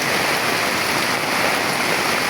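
Strong floodwater from heavy shearline rain rushes past a flooded court in a barangay, a loud, continuous roar of turbulent water with no talking.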